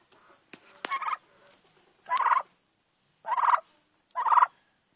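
Domestic turkey gobbling in several loud, close bursts, roughly one per second after a short opening call, with quiet gaps between calls and no talk over them.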